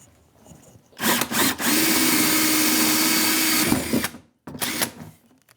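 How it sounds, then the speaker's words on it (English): A power drill whines steadily for about three seconds as a 1 3/4 inch hole saw bites into a plastic pond skimmer, followed by a couple of shorter bursts and stops. "we have an 1 3/4 inch hole saw is necessary to make the hole, and we're ready to drill the hole."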